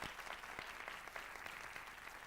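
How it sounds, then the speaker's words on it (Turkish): Studio audience applauding departing contestants at the close of a 1993 Star TV pool game show: dense, steady clapping from many hands fills the whole stretch, a little distant, with no one speaking. "Alkışlarınızla uğurluyoruz yarışmacılarımızı."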